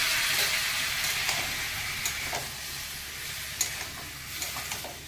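Tomato frying in a pan with mustard seeds for a chutney gives a steady, moderately loud sizzle and hiss, with faint scattered stirring clicks and no talk.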